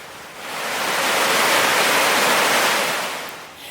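The Upper Falls of the Yellowstone River, a 109-foot waterfall, roars as a continuous broad hiss of rushing water, steady and loud, swelling slightly in the middle with no voices.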